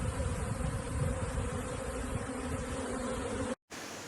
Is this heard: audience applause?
no